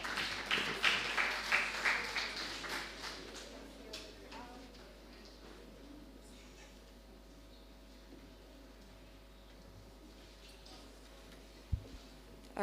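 An audience gives a short round of applause to welcome a presenter at a symposium, the clapping loudest at the start and then fading into quiet room noise with faint talk.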